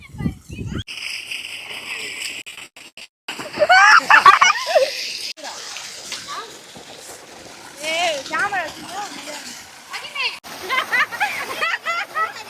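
Water from a village pump set splashes and sloshes in bursts as people bathe, talking and calling out nearby, with pauses between the pours and a louder splash early on.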